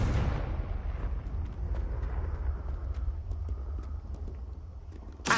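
A Confringo spell blast in a Harry Potter video game opens with a loud explosive burst, then settles into a long, heavy rumble with scattered crackles, and a second sharp burst hits right at the end.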